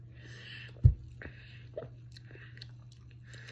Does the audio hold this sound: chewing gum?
yes